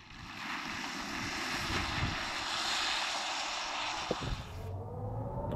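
A 2023 BMW iX1 electric car accelerates hard from a standstill, giving a steady, loud broadband rush of wind and tyre roar with a low whine that holds throughout, then drops away sharply near the end.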